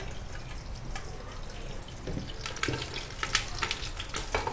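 Quiet frying of eggplant in shallow oil on low heat, soft sizzling with scattered crackles and pops growing busier toward the end.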